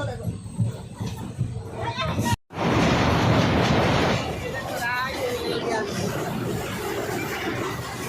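A passenger train rolls along the rails with a steady, loud rumble and clatter, broken briefly by a sudden dropout; voices and station chatter are heard in the background.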